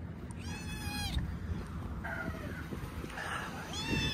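A cat meows several times outdoors at dusk, with drawn-out, wavering calls in short bursts. The calls are fairly faint over a steady background hiss.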